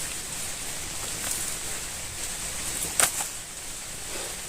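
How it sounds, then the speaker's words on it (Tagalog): Soft, steady rain hisses in the background, with a few sharper drips and taps standing out now and then. "Ulan na naman din."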